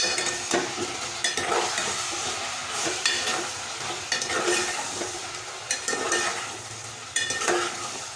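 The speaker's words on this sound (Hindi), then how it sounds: "अब मैं इसको बिल्कुल मैश कर दूँगी" A chicken karahi mixture is mashed and stirred in a frying pan, with repeated scraping strokes, soft clatters and a continuous sizzle heard close by and without any voices.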